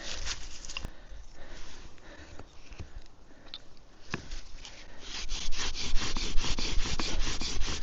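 A wooden bow drill spindle spins in a socket against a fireboard, producing a rhythmic rasping friction that swells louder and faster toward the end, close to the microphone.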